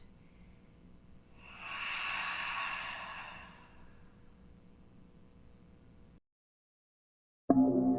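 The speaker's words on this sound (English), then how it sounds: "Take a deep breath in. And a full, complete, cleansing breath out." A slow, deep cleansing exhale during a seated chair yoga class, a soft, breathy sigh lasting about two seconds over quiet room tone before the sound cuts out.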